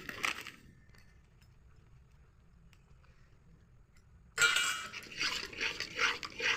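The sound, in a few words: spatula stirring milk in a wok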